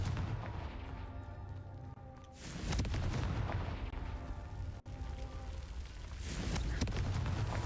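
Confringo spell blasts in Hogwarts Legacy: two heavy booming explosions a few seconds apart, each a loud low burst with a rumbling tail over game background noise.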